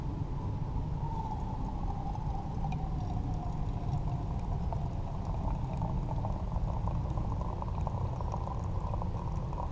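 Hot coffee pours steadily from a coffee press, a continuous soft liquid trickle with a faint ringing tone, quiet and close, heard alone without speech.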